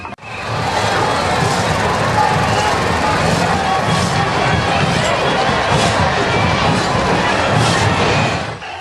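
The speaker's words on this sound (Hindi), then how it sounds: "जगदलपुर में भीड़ इस दिन अपने चरम पर होती है।" Dense crowd noise at the Bastar Dussehra festival in Jagdalpur, a loud continuous roar of many voices and movement that holds steady throughout, with indistinct chatter mixed in.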